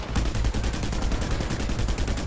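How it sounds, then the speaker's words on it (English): Rapid sustained assault rifle fire in the video game Just Cause 2, a dense, loud stream of shots with no break, heavy low-end thump under each round. "Is that an assault rifle? Yes, it is."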